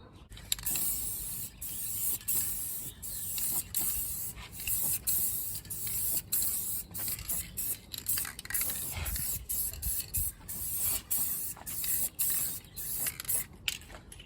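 A heavier clear coat sprays onto a Nissan 370z headlight during restoration, a continuous close hiss broken by small sharp clicks and shifts as the spray passes move up and down.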